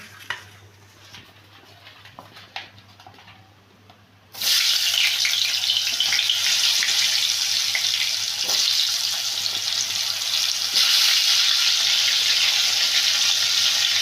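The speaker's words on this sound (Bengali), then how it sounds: "আলু বেগুন দুটোই আমি ভেজে নিচ্ছি" Potato and eggplant pieces frying in hot oil, a steady loud sizzle that suddenly swells after a quieter start and then hisses on continuously.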